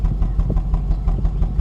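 Jaguar X300 with a 4.0 V8 idling roughly from a coil-related misfire, a loud, close, low engine rumble broken by regular uneven pops and thumps roughly every fifth of a second, with no one talking.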